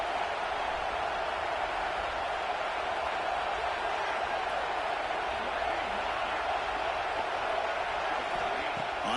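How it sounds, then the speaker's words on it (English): A fired-up football stadium crowd roars as a steady, broad wall of cheering noise that holds evenly loud throughout, with no distinct claps or breaks standing out. "this crowd is fired up. Listen to this noise here"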